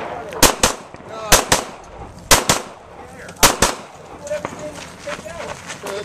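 Glock 35 pistol fired on an IPSC shooting stage outdoors, four loud, sharp shots in spaced pairs, each cracking hard against the range, followed by quieter clatter and faint voices.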